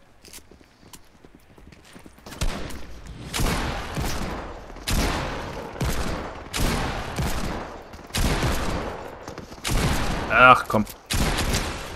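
Gunfire in the battle royale shooter Fortnite, a run of loud sharp shots and bursts spread through the stretch, with a player talking between and over them.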